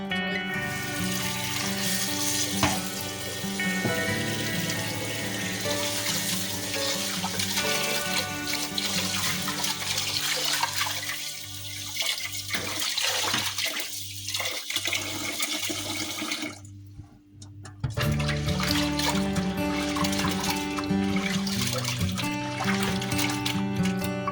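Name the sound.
washing rice in water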